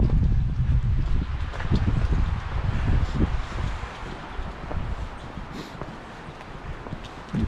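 Strong gusts buffet the microphone with low rumbling blasts and rustling, heaviest at first and easing toward the end.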